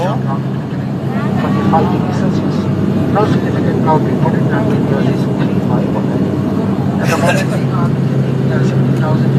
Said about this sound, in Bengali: এখন আমি আকাশের উপরে বিমান চলতি বিমানের ভিতরে ভিডিও করছি।